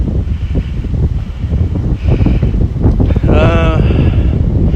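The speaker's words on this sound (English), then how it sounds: "Oh, hand in the way, trying to block the wind." Wind buffeting the microphone on a rocky trail during a hike to Patton Cave, a loud, continuous rumbling gust with a voice talking over it.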